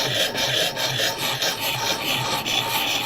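A knife blade scrapes back and forth on a coarse-grit sharpening stone, a steady, close, gritty rasping in even repeated strokes with no talking.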